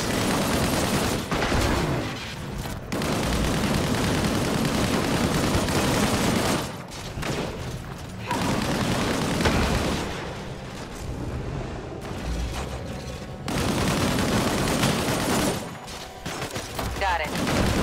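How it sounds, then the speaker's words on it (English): Laser-sighted sniper fire in the video game Disintegration: dense bursts of gunfire and explosive rumble in long loud stretches, broken by brief quieter gaps, with a voice talking over the action. "Those are laser sighted snipers."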